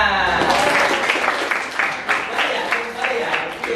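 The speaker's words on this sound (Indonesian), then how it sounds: "Tepuk tangan." Schoolchildren in a classroom give a short burst of applause, loud close clapping with separate claps audible as it thins out, mixed with young voices talking over it.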